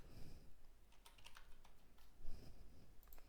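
Keys clacking on a computer keyboard during a CSS coding lesson, a quick irregular run of soft, close clicks in short bursts with pauses, alone and without speech.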